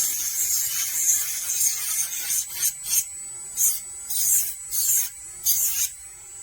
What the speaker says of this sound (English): This is really nice nail drill.